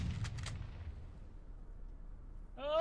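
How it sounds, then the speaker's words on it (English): Explosions from battling boats in the video game From The Depths: a couple of quick blasts burst out near the start, then a low rumble fades away, and a brief tonal sound rises at the very end. "Explosions. You did. You loaded two of them."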